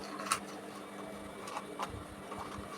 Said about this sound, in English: You sew it on the 1/2 inches all the way round.